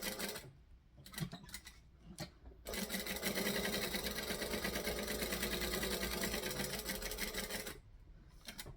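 A sewing machine stitches in a steady, even whir for about five seconds, preceded by a few short stop-start bursts and clicks and ending abruptly. Close and clear, with no talking.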